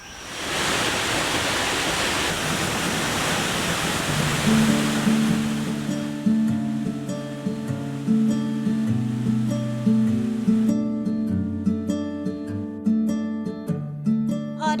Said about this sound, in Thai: ได้ยินเสียงน้ำตกแล้วอะตอนเนี้